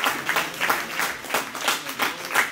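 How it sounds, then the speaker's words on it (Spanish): A church congregation at a Spanish-language service applauds, a dense, steady wash of many hands clapping with a slight rhythmic pulse, sustained and fairly close throughout. "Dale un aplauso al Señor Jesucristo."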